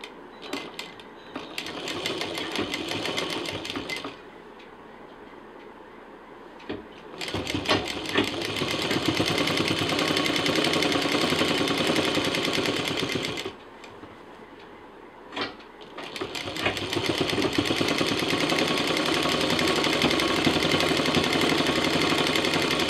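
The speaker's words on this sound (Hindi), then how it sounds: "और अब इसको हम सिल देंगे।" Sewing machine stitching a DIY sling bag, running in long fast bursts of rapid needle clatter broken by two quiet pauses, close and loud.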